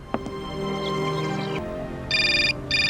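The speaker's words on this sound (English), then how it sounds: "Oh, it's a phone call." A phone in the adventure game Syberia rings with an electronic trill in two bursts, after a brief click and a steady ambient game hum.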